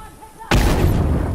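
A sudden loud, close blast of rifle gunfire in The Last of Us multiplayer Factions match on the Water Tower map, the burst ringing out and sustaining with rumbling echo after a quiet start.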